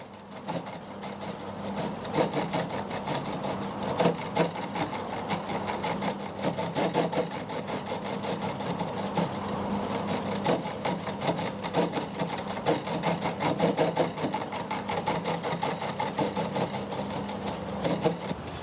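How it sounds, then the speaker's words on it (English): Hand scraping the ram ways on a machine body, a close run of rapid, regular scraping strokes with faint metallic ticks, steady and unbroken with no speech. "we'll start actually scraping in the ram ways on the body"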